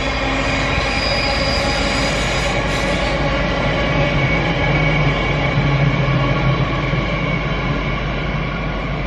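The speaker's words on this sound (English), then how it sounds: "It is a tilt train." A Spirit of Queensland tilt train with power cars, running from Cairns to Brisbane, passes through Petrie in Brisbane. It gives a loud, steady rumble of wheels and rail noise that fills the whole stretch, with no voices.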